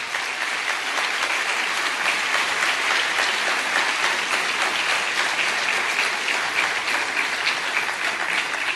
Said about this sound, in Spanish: Dale un aplauso al Señor de alabanza.